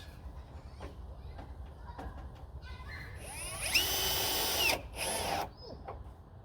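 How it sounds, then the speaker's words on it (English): A power drill drives screws into the floor of a Backyard Discovery wooden playground set, with a loud whirring burst of about a second, a short pause, then a second briefer burst, over quiet background noise and faint voices. "So we'll go ahead and screw it in."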